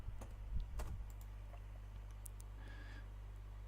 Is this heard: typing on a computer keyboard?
yes